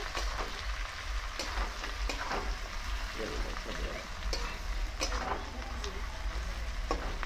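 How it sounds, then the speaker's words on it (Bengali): Onions fry in a pan with cloves, black pepper, cinnamon, cardamom and cumin, giving a continuous close crackle and sizzle with several brisk stirring scrapes cutting through. "এটা এখন নেড়ে চেড়ে একটু ভাজা ভাজা করবে, ব্রাউন কালার হবে।"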